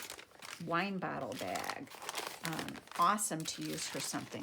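A coated paper wine-bottle bag crinkles and crunches loudly as it is handled up close, the crackling mixed in with a person talking.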